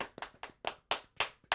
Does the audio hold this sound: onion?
no